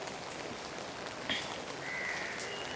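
Rain falls steadily over the city of Navsari in Gujarat during a monsoon spell, a continuous broadband hiss with a couple of brief sharper sounds partway through.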